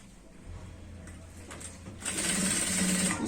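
A sewing machine stitches a pant waistband: quiet handling and soft knocks at first, then the motor starts up loud and close, running in a fast, even mechanical whir to the end.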